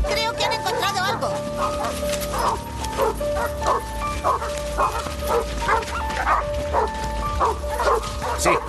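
Several dogs bark and yip in quick, repeated bursts, fairly close, with a steady tone and other noise running underneath.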